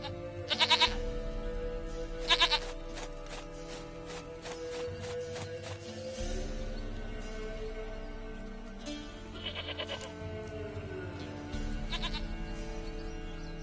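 A goat bleats repeatedly in The Witcher 3 video game, short nasal cries recurring over steady ambient game background, with no talking.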